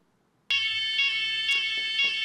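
After a brief silence, a loud, shrill fire alarm suddenly starts blaring, a continuous piercing electronic tone that holds steady without pause.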